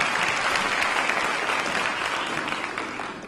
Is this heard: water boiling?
no